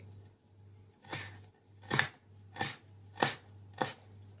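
A knife chops cracked garlic cloves on a board: five distinct, evenly spaced thuds, close and fairly quiet, with a low steady hum beneath.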